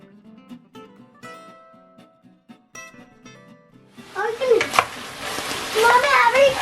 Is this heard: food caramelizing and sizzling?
yes